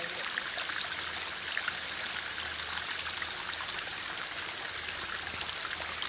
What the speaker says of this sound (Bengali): দেখো এই যে একটু একটু জল পড়ছে